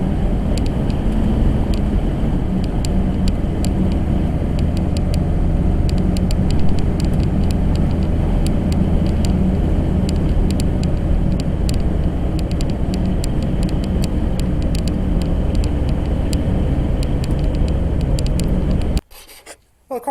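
Subaru Justy engine running at a steady, loud, rough drone heard up close, with a constant rumble and hiss lasting throughout before cutting out abruptly near the end.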